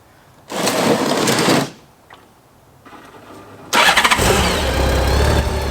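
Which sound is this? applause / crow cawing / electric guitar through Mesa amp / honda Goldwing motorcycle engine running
honda Goldwing motorcycle engine running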